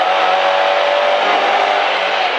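Rally car engine held at steady high revs from inside the cabin on a Neste Jari-Pekka Ralli F-cup stage in Heinola, loud and continuous with a constant droning tone throughout.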